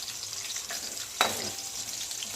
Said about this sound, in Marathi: त्याला थोडा फ्राय करून घ्यायचं बरं का बटाट्याला।